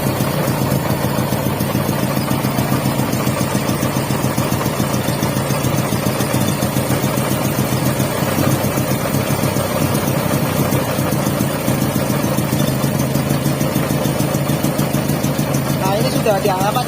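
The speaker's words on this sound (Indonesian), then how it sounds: "selanjutnya kita start, lalu kita starter" Car engine started and settling into a steady idle around 800 RPM during a conventional light-vehicle maintenance check, a continuous mid-low hum running throughout at moderate level, with a person talking over it.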